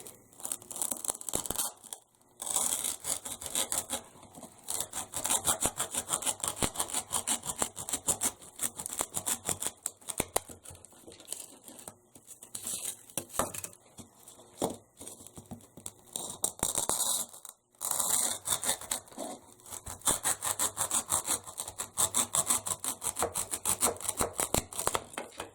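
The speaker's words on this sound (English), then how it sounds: "I'm just going to literally cut these blocks in half" Craft blocks being sawn in half by hand, a long run of rasping back-and-forth strokes with short pauses between bursts, close and fairly quiet, with no talking.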